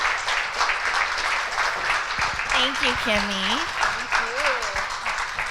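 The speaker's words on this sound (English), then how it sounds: "Let's give our amazing MC a round of applause" An audience at a conference opening applauds the MC, a sustained wash of clapping lasting several seconds, with cheering voices and a speaker talking over it.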